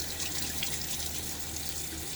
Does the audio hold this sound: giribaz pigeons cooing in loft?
no